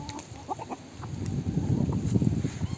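Chickens cluck softly in short, scattered calls over a steady murmur of barnyard noise, with the flock close by.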